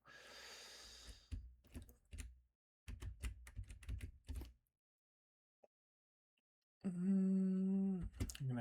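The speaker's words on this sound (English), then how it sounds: "I'm on like a cheaper keyboard now" Sharp clicking keystrokes on a cheap computer keyboard during gaming, coming in quick irregular bursts with short pauses, followed by a brief gap and then a loud tonal in-game sound.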